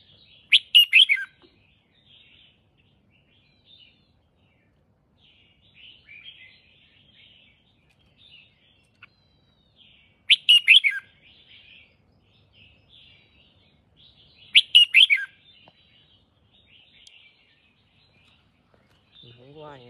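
Pet songbirds at home give several bright chirping bursts at intervals, with softer scattered tweets between them, close and fairly clear, and a brief low sound at the very end.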